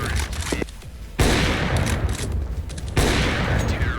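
Sniper rifle fire from an AWP in the video game CS:GO comes as two sharp, loud shots about two seconds apart, each trailing into a ringing echo.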